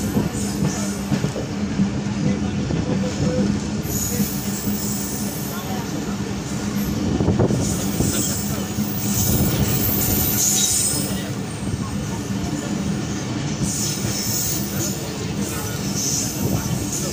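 Rehman Baba Express rounding a curve between Rohri Junction and Karachi, loud continuous rumble of railcars with wheel squeal and clattering rising mid-way, heard close from on board with a voice talking over it.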